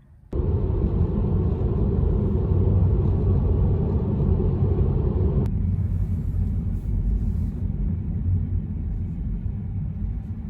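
Tesla Model 3 Performance electric car pulling away from a stop on a motorway ramp, a steady loud low road rumble and cabin drone that holds throughout, easing slightly in tone partway.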